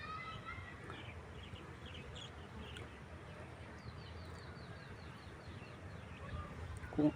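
Honey bees buzz around beehive boxes at the edge of a dragon fruit garden, a faint steady hum with birds chirping in the background.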